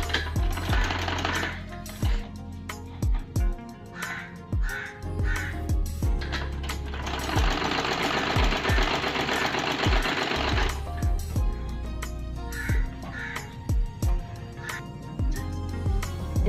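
Sewing machine stitching a fabric strip in circles onto a top made from old palazzo pants, a steady whirring run of stitching in the middle with shorter bursts and clicks before and after.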